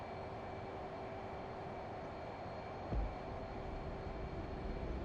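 A jet aircraft launched off a carrier deck roars as a loud, steady broadband rush, with a brief thump partway through and the engine noise continuing unbroken.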